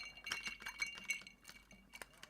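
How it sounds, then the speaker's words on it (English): Ice cubes clink softly against a glass of a vodka drink as it is stirred with a cocktail umbrella, several light, faint taps close by and with no talking. "You can probably hear the ice mixing around."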